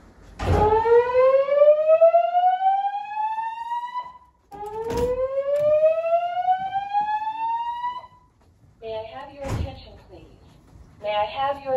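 A dormitory building's fire alarm during a test sounds two loud rising whoop tones in a row, then a voice comes through over the alarm.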